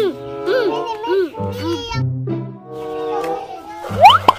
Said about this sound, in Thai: โอ้ยกินเยอะๆนะเจ้าเหมียวน่ารักจริงๆเลย